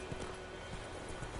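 Roach the horse galloping in The Witcher 3, steady clip-clop of hooves thudding in a quick repeating rhythm, moderately quiet against a constant game background hum.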